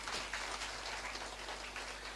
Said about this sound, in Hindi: जोरदार तालियां दोनों लोगों के लिए